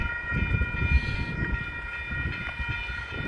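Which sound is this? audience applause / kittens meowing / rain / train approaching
train approaching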